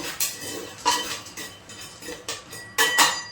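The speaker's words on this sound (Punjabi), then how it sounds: "ਕੁੱਕਰ ਨੂੰ ਬੰਦ ਕਰ ਦਾਂਗੇ" A metal pressure cooker lid being handled and closed: a series of light clinks and metallic taps, close and fairly loud, scattered irregularly over a few seconds, with no voices.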